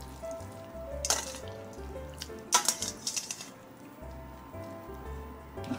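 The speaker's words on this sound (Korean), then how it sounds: "찬물로 헹궈줄게요" Cooked noodles for a beef noodle soup meal kit are rinsed under cold running water in a kitchen sink, a soft continuous splashing patter with a few louder splashes and clatters.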